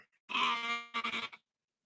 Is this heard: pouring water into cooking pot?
no